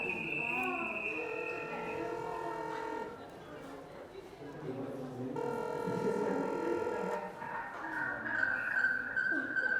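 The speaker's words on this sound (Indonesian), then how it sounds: "Sekarang video call dari laptop ke HP-nya." A video call placed from a laptop to a mobile phone rings in a classroom, giving steady tonal ringtone chimes that pause briefly midway, with people talking and room noise underneath.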